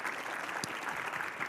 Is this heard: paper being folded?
no